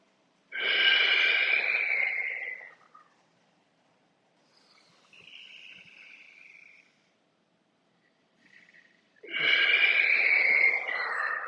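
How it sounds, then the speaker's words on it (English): Deep breathing during a lunch-break mobility exercise: a loud, close breath, a softer one, then another strong breath after a pause, heard alone without talk. "Breathe."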